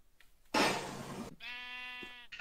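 A sheep in a video game lets out a short bleat, preceded by a brief breathy burst and then a wavering, harmonic cry, close and fairly quiet against a near-silent background.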